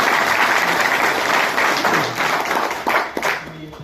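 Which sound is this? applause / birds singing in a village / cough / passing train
applause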